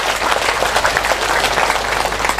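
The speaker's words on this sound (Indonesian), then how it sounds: "tepuk tangan tidak terlalu kuat karena belum makan siang" A congregation at a humorous sermon bursts into steady applause, many hands clapping densely and evenly at close range with no voices over it.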